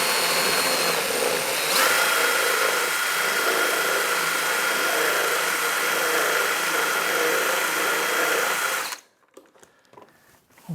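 Power drill enlarging a hole for a cable on a Goldwing motorcycle, a loud continuous whirring grind for about nine seconds, close up, stopping abruptly and leaving near quiet.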